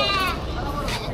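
Goats at a livestock market, all bucks, bleating in a short wavering cry early on, with a fainter call near the end over crowd babble and voices talking nearby.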